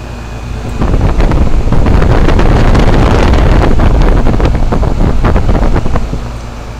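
A 2004 Goodman 10 SEER 3.5-ton heat pump goes through a defrost cycle with a loud, close, rushing whoosh that swells in after a second, holds steady for several seconds, then fades.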